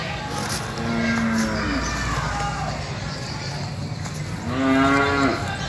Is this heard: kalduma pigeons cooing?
no